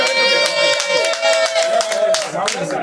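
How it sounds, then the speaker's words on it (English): Convention general assembly audience clapping, with dense hand claps running steadily throughout and a strong sustained tone and cheering voices mixed in. "you clap for yourself, you did really well."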